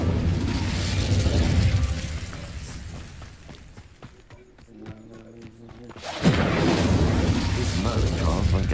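A fire spell blast from Hogwarts Legacy erupts in a roaring, booming burst, then carries on as a loud sustained whoosh after a quieter lull with soft tones.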